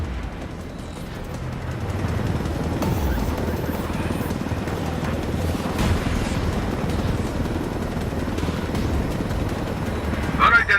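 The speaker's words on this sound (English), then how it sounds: "I told Griffin I could figure out how to fly this thing. Qualify for planes. But not choppers." Helicopter flying in Ghost Recon Wildlands, a steady loud rotor-and-engine roar held continuously throughout, close and unbroken.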